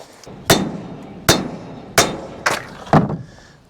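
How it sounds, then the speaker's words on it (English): Five heavy sledgehammer blows ring out on a large homemade kindling splitter driving through firewood, sharp metallic impacts spaced about half a second to a second apart, close and loud with short decaying rings, no voices. "about 3 blows with the sledgehammer, you're right on through"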